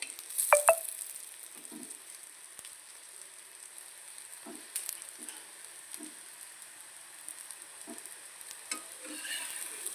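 Oil hisses softly around a vegetable batter flatbread frying in a pan, a faint, steady sizzle broken by a few light scrapes and small bubbling pops.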